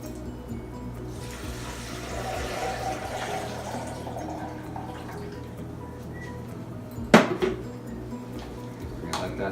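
Water poured from a vessel onto soaked soybeans in a pot for homemade soy milk, a soft steady splashing fill lasting several seconds, then a sharp clink near the end.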